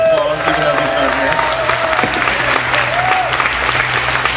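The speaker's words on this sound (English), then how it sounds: "we should all give him a round of applause" An audience on a cruise ship claps in sustained, dense applause throughout, with voices and cheers mixed in.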